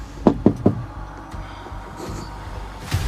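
Three sharp knocks on a door in a dark forest setting at night, evenly spaced and close, followed by quiet ambient rumble and a faint later thump.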